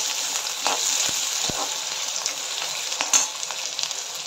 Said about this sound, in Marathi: गाजर, हे आता व्यवस्थित आपण मिक्स करून घेणार आहोत